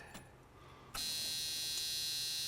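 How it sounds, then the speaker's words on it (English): A loud, steady electric buzzer starts abruptly after a short click and holds without a break to the end in a Mustang, with no talking. "the lovely buzzer"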